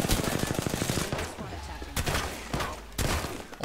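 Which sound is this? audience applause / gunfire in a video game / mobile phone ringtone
gunfire in a video game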